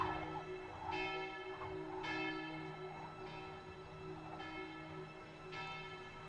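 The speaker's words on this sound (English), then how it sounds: "Right, you got the chimes." Chimes ring out in an orchestral film score, struck roughly once a second over sustained tones, each strike bright and then decaying. The passage is fairly soft.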